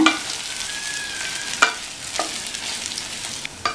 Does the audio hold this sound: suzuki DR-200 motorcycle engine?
no